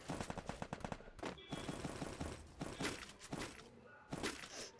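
Rapid bursts of M10 fire in the Free Fire mobile battle game: a quick run of close, sharp shots, then scattered further shots and in-game effects.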